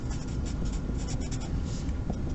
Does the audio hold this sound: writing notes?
yes